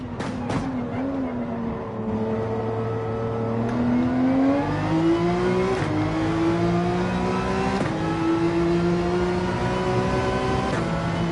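Porsche 911 race car engine in Gran Turismo 7 revving up through the gears, pitch climbing steadily then dropping at each of several shifts, a continuous close engine drone with no other sounds over it.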